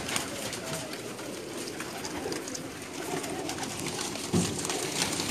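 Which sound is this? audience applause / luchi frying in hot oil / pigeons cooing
pigeons cooing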